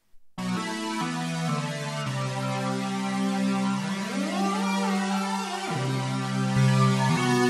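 The lead preset on the OB-Xd synth plug-in holds a steady, rich sustained tone that shifts pitch in a few steps, with a smooth upward glide in the middle, played alone and at a constant level.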